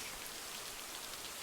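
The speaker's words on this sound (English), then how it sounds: "don't want to have the rain noises" Steady, soft video game rain hissing evenly with a dense patter of drops, faint and continuous with no other sounds.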